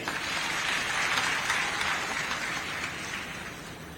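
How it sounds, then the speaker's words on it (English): An audience at a silver jubilee celebration in a conference hall applauds award recipients, a steady wash of many hands clapping at moderate distance that holds evenly and fades a little near the end. "Let's clap for them"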